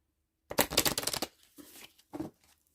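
Tarot cards being shuffled by hand: a loud, dense riffling burst lasting under a second, followed by two softer, shorter riffles with brief pauses between, close up and with no talking.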